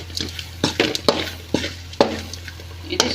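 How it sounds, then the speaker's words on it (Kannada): Homemade coriander sambar powder frying in a pan, with a steady sizzle broken by repeated scraping and stirring strokes and light clinks of a utensil against the metal, close and fairly loud. "ಧನಿಯಾ ಪೌಡರ್ ಅಂದರೆ ಸಾಂಬಾರು ಪೌಡರ್ ಬರುತ್ತಲ್ವ, ಸೊ ಅದನ್ನು ಕೂಡ ಫ್ರೈ ಮಾಡ್ಕೊಳ್ಳಿ"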